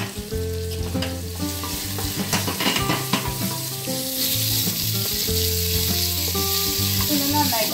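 Soya chunks fry in a pan for biryani, giving a strong, continuous sizzle close up. Scraping and stirring sounds break in now and then.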